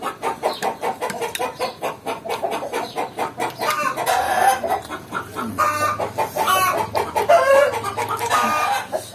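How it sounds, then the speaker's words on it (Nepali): Local domestic backyard chickens clucking repeatedly in a rhythmic, fairly loud chatter, with occasional rising squawks, and no people talking. "यो ब्याकग्राउन्डमा जुन आवाज आउँदैछ यो चाहिँ हाम्रो कुखुराको हो"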